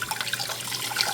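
Water trickles and splashes steadily as rice is rinsed in a sieve, a faint, close, continuous washing sound with no voices.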